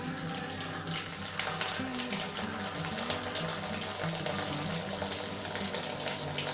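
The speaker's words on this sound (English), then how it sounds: "start draining this off into our brew pot" Apple ale wort drains into a brew pot in a steady, continuous pour of liquid, a full, even gush that runs close and loud the whole time with slight surges, no voices over it.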